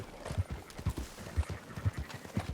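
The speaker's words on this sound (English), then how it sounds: "You ride Shank, keep watch for any trouble." Horse hooves clip-clop at a steady trot in Red Dead Redemption 2, an even run of soft, close hoofbeats with no talk over them.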